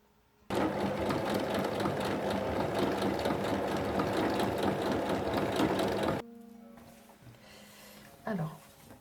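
Overlock sewing machine serging fabric one centimetre from the edge on a small tote bag, a loud steady whirring run of about six seconds that stops abruptly, followed by quieter handling sounds.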